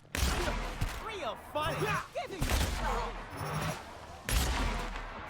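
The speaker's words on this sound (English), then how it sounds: "let's try out my new ice gun" Several bursts of a new ice gun fire in The Outer Worlds, loud and punchy, each followed by a crackling tail, with game voices talking between the shots.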